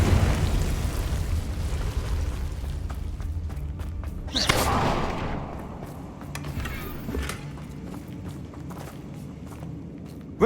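Confringo fire spell blast cast in the video game Hogwarts Legacy, a single loud burst of fiery noise near the middle that dies away into softer game ambience, with light footsteps and thuds around it.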